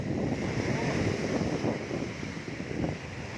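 Strong sea waves surging onto the beach at Jomtien, Pattaya, in the evening, a continuous loud roar of surf mixed with buffeting wind noise on the microphone.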